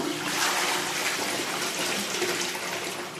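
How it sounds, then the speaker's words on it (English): A new public toilet flushing: a loud, close, steady rush of water filling the whole few seconds with broad hissing noise, no voices over it. "Should we check out the flush?"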